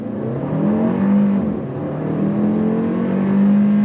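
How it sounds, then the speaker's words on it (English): A 2025 Kia K4 GT-Line Turbo with an 8-speed transmission pulls away hard from a green light, its engine droning loudly from inside the cabin as revs climb, drop at a shift near midway, then rise again. "Let's see how it goes on throttle when that light turns green. On throttle, here we go."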